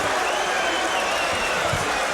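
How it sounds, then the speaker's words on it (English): Boxing crowd at a heavyweight bout cheering and applauding, a dense, loud, continuous roar of clapping and voices filling the arena. "Well, you know the crowd's rooting for the underdog,"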